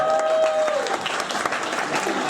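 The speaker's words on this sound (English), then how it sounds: "give yourselves a round of applause for not doing it" Audience applause at a comedy show, a dense burst of clapping from a club crowd that fills the whole stretch, with a brief whistle-like tone near the start and no talking over it.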